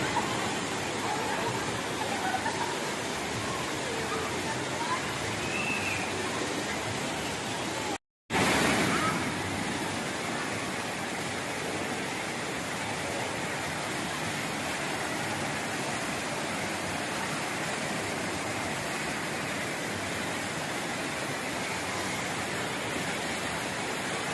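Rushing water roars steadily from Bantimurung waterfall in a forested Indonesian valley between two hills, a dense, continuous wash of noise heard up close, broken once by a brief dropout.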